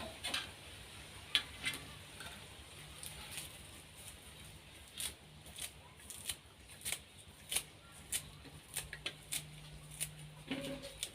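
A knife taps against a cutting board chopping garlic and shallots in irregular, quick chops, fairly quiet and close, with brief pauses between bursts.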